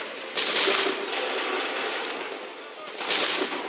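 Musket volley from the video game Assassin's Creed 3: two loud, crackling bursts of massed gunfire about three seconds apart, with a sustained noisy wash between them.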